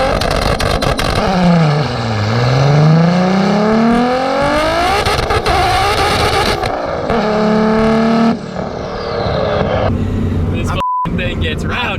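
An 1100HP RB26-powered Nissan Skyline R32 GTR with AWD launching, engine revving hard and climbing through gears with rising and falling tones, loud and close, abruptly cutting out near the end.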